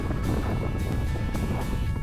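Steady, rushing wind buffets the microphone throughout, a dense low roar with gusty swells and no voices.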